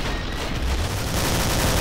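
Rapid bursts of video-game gunfire in Killing Floor, a dense continuous barrage of shots that stays loud and close throughout.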